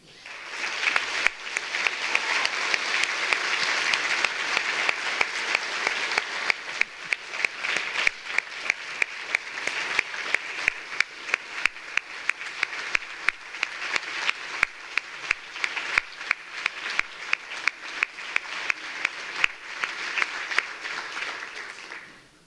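Sustained, dense audience applause at a state government awards ceremony honoring exemplary public employees, a steady wash of many hands clapping for over twenty seconds with no talk, fading out at the end.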